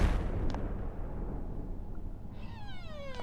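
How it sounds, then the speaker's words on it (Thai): A video game explosion bursts loudly at the start, then decays into a long rumbling roar, with thin whistling tones rising near the end and no talking. "ระเบิดเลย"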